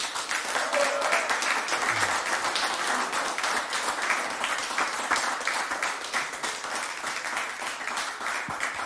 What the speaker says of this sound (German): Großen Applaus bitte für Julius Feldmeier.